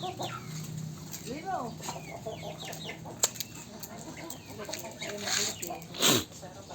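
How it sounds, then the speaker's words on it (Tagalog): Chickens cluck in short, scattered calls close by, with a brief flutter of wings and people talking quietly in the background. "Chicken."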